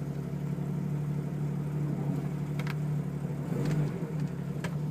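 A steady, low low-mileage Jeep YJ engine idle rumbles evenly throughout, with a few faint clicks and small shifts in tone near the end.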